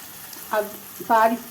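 Onions fry and are stirred in a pan, a faint, close sizzle under two short bits of voice.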